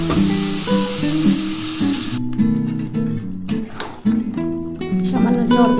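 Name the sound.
mutton sautéing in a pan with hot water added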